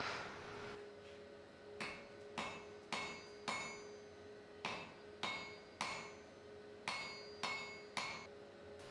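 A hammer repeatedly strikes the ends of a wrought iron bar, upsetting them square after power-hammer forging for a viking hammer head. About a dozen sharp ringing metallic blows land in uneven pairs and clusters, each ringing briefly over a steady high hum.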